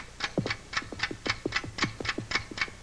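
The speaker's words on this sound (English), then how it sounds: "Listen to that clock ticking." A loud clock ticks indoors in a steady, even rhythm of about three to four ticks per second, close and clear, with a light hollow knock under each tick.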